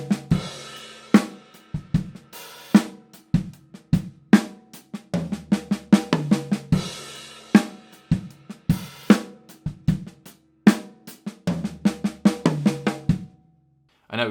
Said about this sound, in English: let's move the first note of each group to the toms, but keep the other notes planted on the snare drum